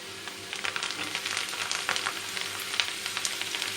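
Garlic and curry leaves fry in hot oil for an Andhra-style green chilli pickle tempering, a steady close crackling sizzle with scattered pops throughout and no talking.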